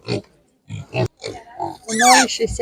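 Short piglet grunts and a squeal come in quick bursts, close and loud, with voices talking around them at an animal market.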